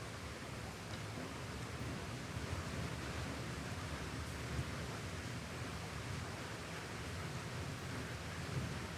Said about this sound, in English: Sound of rain is nice.